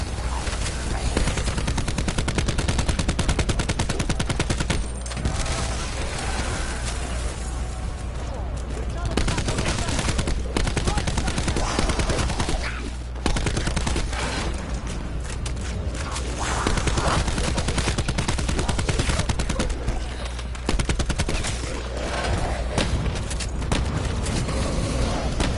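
Rapid gunfire in Call of Duty Black Ops 4 Zombies while shooting tigers, dense sustained bursts of automatic fire with brief pauses, loud and close, mixed with game effects and occasional talk.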